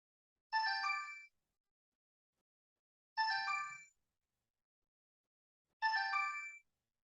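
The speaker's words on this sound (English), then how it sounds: "My phone ringing." A mobile phone ringtone plays three identical bright melodic bursts about two and a half seconds apart, each under a second long, with silence between them and no voices.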